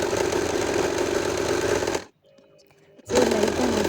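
A sewing machine runs steadily while stitching a ruffled frock for an eight-year-old girl. The loud, even whir stops for about a second, then starts again just as strongly.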